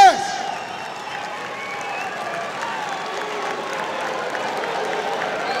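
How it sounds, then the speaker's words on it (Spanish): Steady audience applause continues at a Paso Fino horse show, with a crowd clapping over a sustained hum. A brief sharp sound opens the stretch and a voice can be heard faintly beneath the clapping. "Y esos aplausos siguen para nuestro segundo lugar"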